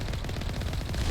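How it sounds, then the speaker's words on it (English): Heavy turret fire in the Mass Effect video game: a fast, steady stream of rapid shots blending into a continuous rattling burst, moderately loud and up close, with no voices. "Heavy turret."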